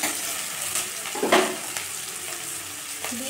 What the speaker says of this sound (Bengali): এখানে দিয়ে দিচ্ছি শুকনো লঙ্কা আর তেজপাতা, দিয়ে এটাকে একটু নেড়ে ছেড়ে নেবো আমি এখানে